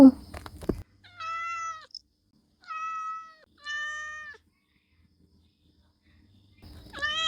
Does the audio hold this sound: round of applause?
no